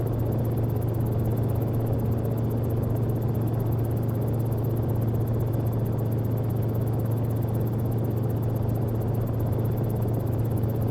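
A Cicare 8 helicopter cruising in X-Plane, a constant low rotor drone and engine whir, steady and unbroken, close and fairly loud with no talk.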